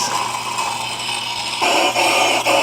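A harsh, steady grinding roar with a broadband hiss, shifting brighter partway through, with faint periodic catches as the dressing tool skips on a heavily out-of-round grindstone.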